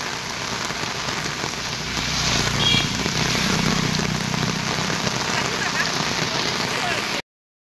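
Rain falls steadily across a village in a constant dense patter that swells a little midway, with a voice faintly under it, before cutting out abruptly at the end.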